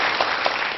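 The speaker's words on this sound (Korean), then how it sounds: "박수를 청해서 얘기를 한번 들어보겠습니다." A studio audience claps to welcome a speaker onto a lecture stage, a brief, loud, dense burst of many hands together.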